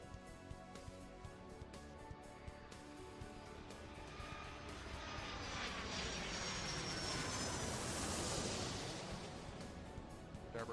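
A jet accelerates down the runway and takes off in the air traffic control game Airport Madness 3, its engine building from a steady hum to a loud, broad roar that peaks and then eases, with no voices.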